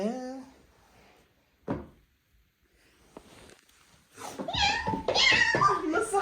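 A human voice imitates a cat's meow in drawn-out, wavering tones, with short knocks and pauses between the calls.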